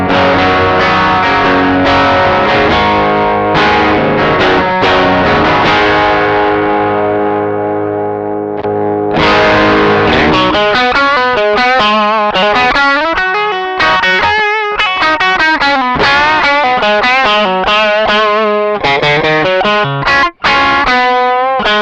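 Overdriven rhythm guitar through a NUX 63 Diamond Vox-style overdrive pedal, loud and alone: sustained distorted chords ring out first, then a driving, choppy strummed riff with short gaps.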